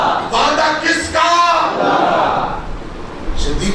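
A large crowd at an Islamic religious gathering loudly shouts slogans in unison in reply to a preacher's call, a massed roar that swells and then fades.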